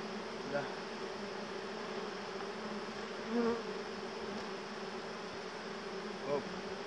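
A dense swarm of honeybees buzzes around a hive frame during a hive transfer, a steady close droning hum with a few brief louder swells as bees pass near.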